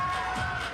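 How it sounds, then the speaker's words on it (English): A home crowd cheering at a women's WNBL basketball game at the National Convention Centre, a sustained loud roar filling the arena for a brief moment. "Home crowd getting involved here at the National Convention Centre"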